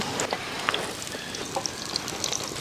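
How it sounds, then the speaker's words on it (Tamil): Bitter gourd sautéing in hot oil in a pan, a steady soft sizzle and crackle with scattered small pops, close and moderately quiet, with no talking. "இப்போ பாவக்காய் போட்டு நல்லா வதக்கி எடுத்துக்கலாங்க"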